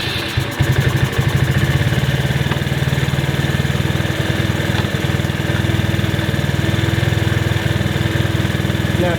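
A Genuine Buddy 125 scooter engine idles after its carburetor is cleaned and adjusted, holding a steady, loud, close puttering rhythm throughout with no talk.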